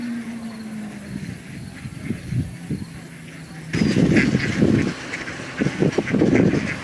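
Ducks quack in bursts while being fed outdoors at Cox's Point in Essex, Maryland, with loud clustered calls after a quieter opening, over steady background noise and some voices.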